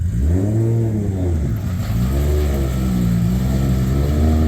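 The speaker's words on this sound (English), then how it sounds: "I don't mind the race car noise." A drift car engine revs loudly and continuously at a Formula Drift event in Long Beach, its pitch climbing and dipping as it accelerates nearby.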